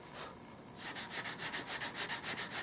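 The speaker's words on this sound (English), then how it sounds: "now I'm sanding up to where I meet that flat surface right there" Rhythmic sanding on a wooden rifle gun stock, a brief scrape then steady back-and-forth strokes, close and fairly quiet, about a dozen even passes.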